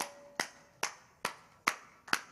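Audience members clap during a group exercise at a budget conference, five crisp evenly spaced claps with a slow steady beat, near and clear, with no voices.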